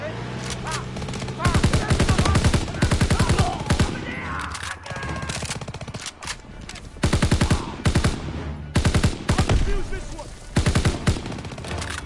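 Sustained automatic weapon fire in Call of Duty: WWII during the Battle of the Bulge and Rhine crossing, loud close bursts of rapid shots repeating in several long volleys with brief gaps between them.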